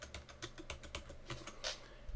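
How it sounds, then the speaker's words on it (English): Keys on a computer keyboard are tapped in a quick, uneven run of about a dozen soft clicks while a password is typed, close and quiet with no talking. "so we're going to type in George"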